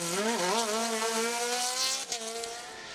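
A Norma M20 FC 2-litre sports prototype screams past at a hill climb, its engine note loud and high with a sustained rising and falling whine, a brief dip near the end as it shifts before pulling hard again.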